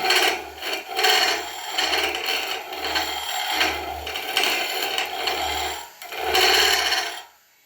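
A woodturning tool scrapes and rasps against the face of a tenon on spinning wood in repeated strokes, pausing briefly between passes before the grinding stops abruptly.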